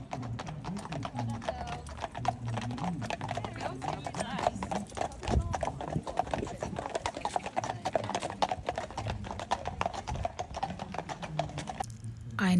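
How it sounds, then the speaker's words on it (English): Steady clip-clop of horse guards' hooves on pavement at the coronation of the new King, many overlapping beats, with a busy crowd murmuring and talking all around. "I saw horse guard wandering around the park"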